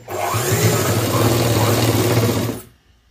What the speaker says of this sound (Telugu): ఈ విధంగా ఈ క్లాత్ అనేది ఇట్లా ఫోల్డింగ్ చేసుకుంటూ బ్యాక్ సైడ్ మీద క్లాత్ మీద ఈ కుట్టు పడేలాగా చూసుకుంటూ కుట్టు అయితే వేసేసేయండి